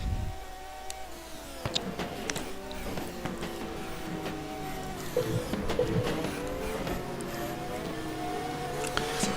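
Formula racing cars in a video game during qualifying laps on the Sydney and Portimao circuits, several engines whining and shifting pitch as they pass, layered over one another at moderate volume for the whole stretch.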